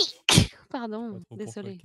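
A single sharp sneeze bursts out during a tabletop role-playing game session, loud and close, followed by an apologetic voice speaking.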